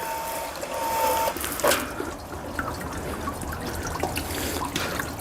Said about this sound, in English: we're losing a lot of water running off